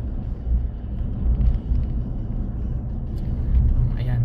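Low rumbling of a car moving through stop-and-go road traffic, a steady near engine and road drone that swells slightly at moments, with no voices.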